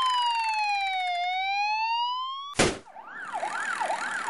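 A police siren wails in long rising and falling sweeps, then cuts to a sharp blast and switches to a fast yelping warble, loud and close.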